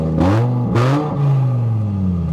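A budget bagger motorcycle with a swapped CV carb and intake revving close by, two sharp throttle blips rising in pitch followed by a steadier drawn-out engine note.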